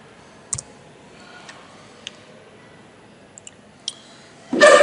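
Sparse keyboard clicks from typing on a computer keyboard, a few isolated taps spaced apart in a quiet room, ending with a brief louder burst.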